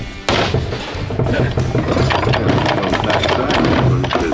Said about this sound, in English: that clutch. That doesn't sound very good.